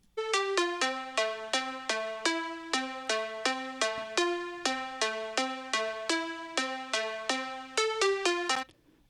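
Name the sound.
synth lead layer made with Serum in FL Studio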